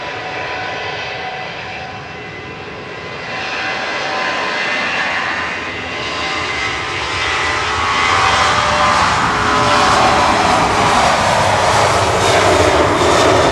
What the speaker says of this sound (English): Ryanair departing now.